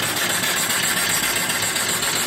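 Model mill steam engine running smoothly, a close, steady rhythmic mechanical chugging with a fine repetitive beat and no talking.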